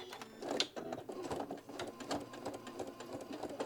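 A sewing machine runs a narrow one-eighth-inch seam down one side of a fabric strip, a steady mechanical whir with fast rhythmic needle ticks, close and moderately loud throughout.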